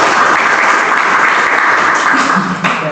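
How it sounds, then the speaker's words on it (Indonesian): Steady, loud audience applause for a guest speaker at a conservation talk session, dense clapping that holds throughout with a slight dip near the end. "Kita aplaus untuk beliau."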